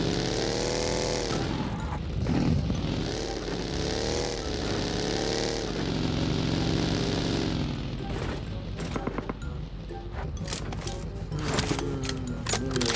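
A vehicle engine roars and shifts pitch steadily for several seconds in the video game PUBG Mobile, then gives way to sharp bursts of rapid gunfire near the end, with no talking.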